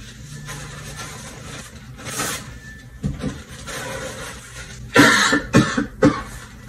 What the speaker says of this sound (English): Let me find something to cough into.